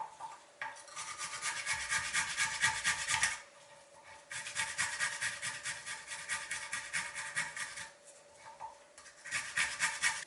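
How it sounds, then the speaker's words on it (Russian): Five garlic cloves rubbed back and forth over a fine grater in bursts of steady rasping strokes, close and fairly loud, with short pauses between bursts. "Пять зубчиков чеснока натираю на мелкой терке."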